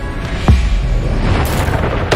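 The Bombarda explosion spell in Hogwarts Legacy, a single deep booming blast followed by a rumbling tail and a later bright crackle of effects.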